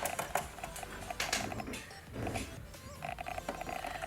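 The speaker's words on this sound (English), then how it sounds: "I'm going to fold it up just like this, and then I'm just going to cover stitch on top of this." A cover stitch sewing machine runs close by, stitching across a folded fabric hem, giving a steady rapid mechanical clatter with a brief slowdown midway before resuming.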